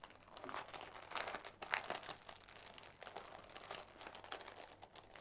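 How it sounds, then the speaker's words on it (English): Crinkling plastic wrapping is pulled off a cloth playing board from the board game Soulaween, a close, steady rustle with sharper crackles and no speech. "I don't want to take it out of the plastic."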